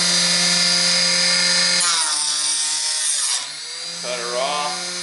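A saw blade cuts off a 300 Blackout brass casing held in a fixture. The motor gives a loud, steady whine with grinding, then the pitch sweeps and winds down partway through.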